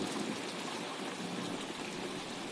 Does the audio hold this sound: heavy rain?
yes